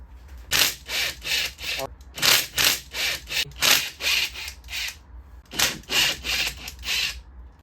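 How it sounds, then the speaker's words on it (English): Pieces of a billet engine head being worked loose while prying off a valve cover: repeated rough scraping and rubbing strokes in bursts, close and fairly loud, with short pauses between groups. "Go ahead and pop this valve cover off now."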